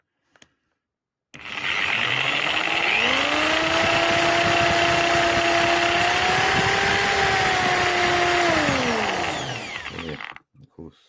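A small 12V water pump motor runs steadily for about nine seconds, a loud continuous whine that rises in pitch as it spins up, holds, then winds down and stops.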